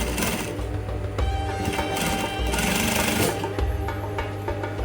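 A sewing machine top stitches the front pocket of a pair of trousers, a rapid mechanical needle chatter in bursts with short pauses between runs, close and fairly loud.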